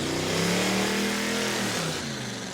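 A car engine revs hard and steadily during a burnout contest at New Smyrna, a loud, close, continuous roar that dips in pitch as the revs ease near the end.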